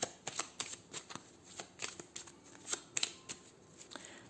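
A 32-card deck being shuffled for a card reading, heard up close and fairly quiet as a rapid irregular series of soft riffling flicks and taps that continues without pause.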